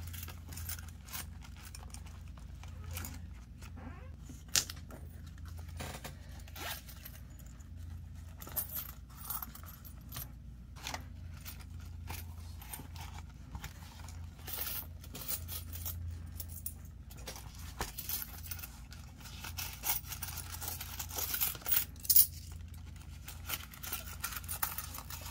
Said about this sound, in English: Let me get these coins out of here.